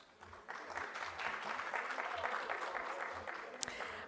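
An audience at a Brazilian public-governance panel debate applauds a panelist, a steady round of clapping that swells after a soft start and holds at moderate level, heard from within the room.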